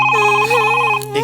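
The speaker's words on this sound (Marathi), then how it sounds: "फोन येतोय, कोणाकडनं तरी बोलतोय." A telephone bell rings close and loud in a steady, sustained electronic trill that cuts off near the end, heard alone without talk.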